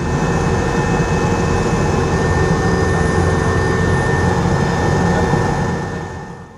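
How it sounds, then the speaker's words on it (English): Army helicopters airlift flood victims in Morocco, producing a loud, steady engine and rotor roar that holds evenly for several seconds before fading away at the end. "Army helicopters are airlifting people trapped in the water and taking them to temporary camps"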